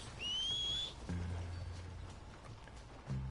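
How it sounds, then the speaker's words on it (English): A short, rising whistle to call a horse sounds once, clear and close, in Red Dead Redemption 2, followed by low game ambience and soft thuds. "My horse is out of whistling range."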